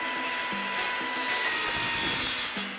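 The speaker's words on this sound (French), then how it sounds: "J'espère que ça passe avec la scie circulaire parce que je risque de tout éclater." A circular saw whines steadily while cutting through a polycarbonate sheet, a continuous harsh, buzzing rasp with faint rhythmic knocks underneath.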